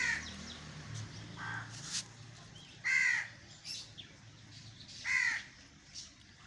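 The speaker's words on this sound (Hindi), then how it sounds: "मॉर्निंग में परिंदे चहचहा रहे होते हैं, ज़िंदगी रवां दवां हो जाती है।" A crow caws several times in a garden in the morning, with loud, spaced calls over a faint ambient background and a few quieter, softer bird sounds between them, and no one talking.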